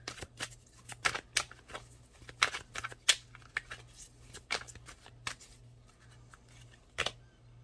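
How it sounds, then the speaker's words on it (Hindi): Tarot cards are shuffled close up, a quiet run of crisp flicking riffles and soft slaps in irregular bursts over a faint steady hum, with no voices. "आपके सामने सारे कार्ड शफल हुए हैं।"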